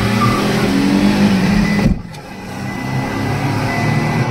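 Tata Punch and Baleno cars in a drag race, their engines droning steadily together, then briefly dipping and swelling back into a sustained roar.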